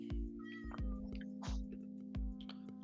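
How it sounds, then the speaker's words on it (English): A domestic cat meows repeatedly and insistently, four or five loud close calls in a steady rhythm, each a rising-falling cry, with faint background hum and no talking. "Let Luna meow, bro"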